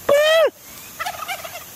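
A turkey gives one loud, close gobble lasting about half a second, followed by softer, broken clucking sounds.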